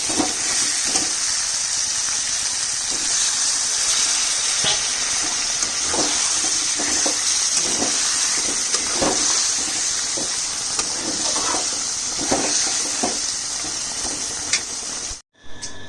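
Water poured into a pot of simmering mutton curry on a home kitchen stove gives a loud, continuous hiss and steamy rush, dotted with small crackling pops, then cuts off briefly at the very end.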